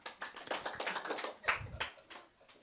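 A church congregation clapping during a Sunday worship service, a scattered, fairly quiet patter of individual hand claps in loose rhythm that thins out and fades toward the end.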